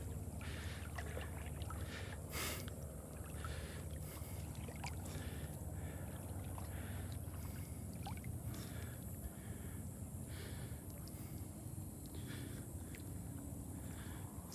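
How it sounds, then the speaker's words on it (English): Distant traffic and boat engines drift across Delnor-Wiggins beach as a faint, continuous low rumble under breezy outdoor air, with scattered small ticks and no nearby voices. "you can just hear some traffic noise, some boats"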